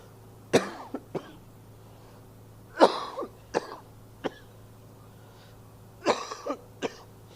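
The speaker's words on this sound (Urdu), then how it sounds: "میری کھانسی کی آواز آپ کے کانوں پر اگر بار گزرے تو میں پیش کی اس کے لیے معذرت چاہتا ہوں" A man coughs during a spoken religious lecture on marriage: a series of sharp, dry coughs in short clusters of two or three, close and fairly loud against a quiet background.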